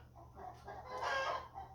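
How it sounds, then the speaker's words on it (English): Chickens cluck and a rooster crows, a short burst of farmyard fowl calls rising to a louder crow near the end, heard alone over a low steady hum. "those chickens are going wild"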